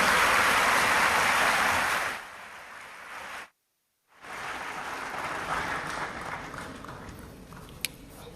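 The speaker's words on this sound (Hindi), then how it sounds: "एक बार जोरदार तालियां माननीय राष्ट्रपति महोदया के लिए।" Audience applause for the President at a Veer Bal Diwas ceremony in a large hall, a loud sustained burst of clapping that fades, breaks off into silence, then resumes more softly.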